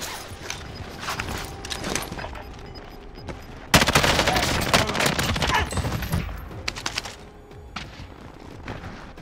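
Gunfire in a video game, rapid bursts of shots crackling at varying distances, with a sharp louder volley partway through and scattered quieter shots and footsteps around it.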